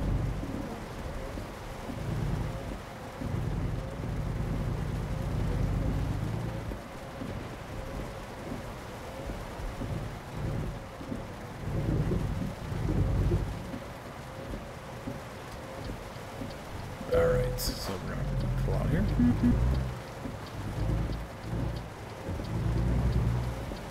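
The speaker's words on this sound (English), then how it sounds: "Quite a storm going on out there." Steady rain falls with rumbling thunder during a storm in American Truck Simulator, rising and falling in waves, with a sharper crack of thunder partway through.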